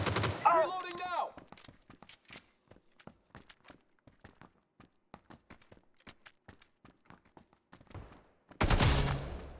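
Video game gunfire cracks out as a string of separate sharp shots, spaced irregularly and fairly close, with voices at the start and a louder burst of noise at the very end.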